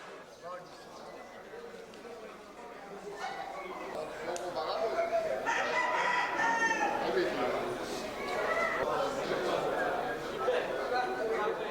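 Fighting cocks crow and cluck inside a cockfighting arena in Martinique, a busy crowd-filled space, with calls rising over constant crowd chatter and talk throughout.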